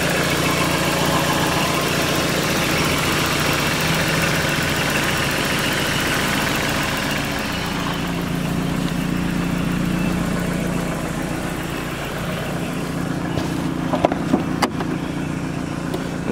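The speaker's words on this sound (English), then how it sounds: "Motor runs great, pretty peppy, really fun to drive." A supercharged 1988 Toyota MR2 sits idling, its engine holding a steady, even hum with a low vibrating drone, close by and unbroken, with a few faint clicks toward the end.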